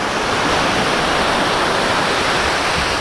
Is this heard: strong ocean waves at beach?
yes